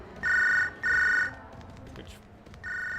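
Telephone ringing indoors, two loud electronic rings in a row, a pause with faint background noise, then a third ring starting, no talk.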